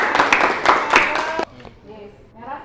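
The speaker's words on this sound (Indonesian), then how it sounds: "Tepuk tangan dulu dong." A classroom audience claps together in a short burst of dense, overlapping hand claps that stops abruptly after about a second and a half, followed by quieter room sound and faint voices.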